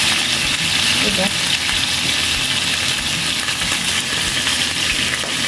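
Chicken drumsticks seasoned only with salt, with no marinade, fry in hot oil as they brown, giving a steady, close crackling sizzle that runs unbroken throughout.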